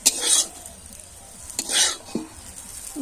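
Egg chowmein noodles are tossed and stirred in a frying pan, with several close scraping swishes and clanks of the utensil over a soft sizzle, in irregular bursts.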